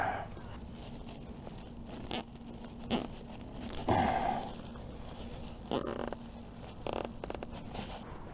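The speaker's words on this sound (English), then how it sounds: "Just put some zip ties around it" Zip ties being pulled tight while rigging a boat-bottom cleaning setup: several short, rasping ratchet zips spaced irregularly, close and fairly loud over faint background noise.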